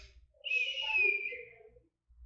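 A person imitates the wheezing breath of an asthmatic with a single thin whistling tone that wavers and slides downward over about a second and a half, close and fairly quiet.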